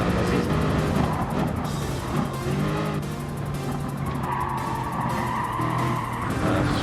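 Car tires skidding and squealing under braking in Gran Turismo Sport, a continuous loud screech over a steady engine drone that runs the whole time without a break.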